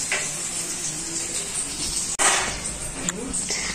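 Paneer frying in a pan at home, a steady soft sizzle and hiss running throughout with a couple of clinks of utensil against the pan.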